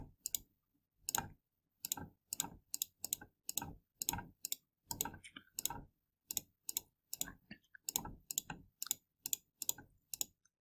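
Calculator keys pressed to enter numbers: crisp plastic clicks close to the microphone, arriving in quick irregular bursts of two or three taps with short pauses between. No talk over them.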